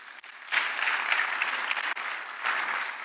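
A church congregation applauds, a short burst of clapping that starts abruptly and holds at a moderate level.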